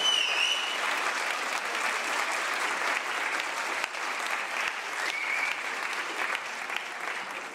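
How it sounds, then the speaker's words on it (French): An audience at a prize event applauds the winners, a dense, steady wash of clapping that runs the whole time at fairly even loudness, with a brief whistle-like tone near the start and no clear speech. "Donc voilà, on peut applaudir très fort Johan et Léane, nos gagnants."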